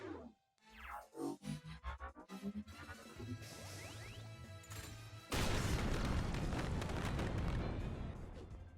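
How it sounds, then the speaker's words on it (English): Explosion in the video game Speedrunners, following a run of rapid whooshing, clattering game effects, then a sudden loud, sustained blast with roaring noise that fills the rest. "Explosion was almost too much."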